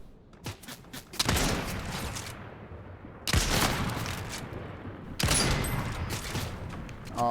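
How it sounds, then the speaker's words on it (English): Gunfire in Fortnite Chapter 3 Season 1 on Nintendo Switch: three separate bursts of rapid shots, each a loud broadband crackle lasting a second or two, with near-silent gaps between them. "they keep shooting at my stuff"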